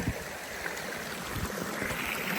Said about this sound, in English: the first waterfall right there